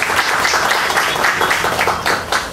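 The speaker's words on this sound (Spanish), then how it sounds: "les pido un fuerte aplauso para él y a su equipo" Audience applause for a radio host and his team at the opening of a cultural centre, dense steady clapping filling the room with no gaps from start to finish.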